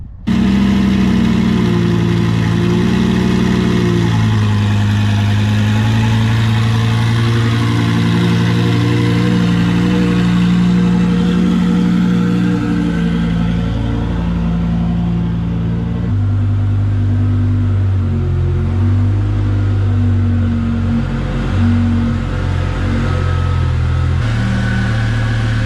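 The twin-turbo engine of a Lamborghini Huracan idles up close, a loud, steady rumble with a deep throb that shifts pitch slightly partway through before settling again.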